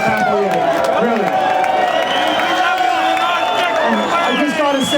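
A large crowd at a Close The Border political rally in Boston cheers, claps and whoops continuously, a loud, dense roar of voices with bursts of applause throughout.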